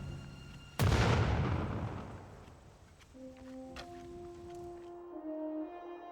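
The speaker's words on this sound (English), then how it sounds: "with the single blast of a cannon" A single cannon blast in a documentary scene set in 1521 Spain: one sudden loud boom with a long rumbling decay, followed by sustained horn-like tones and faint clatter.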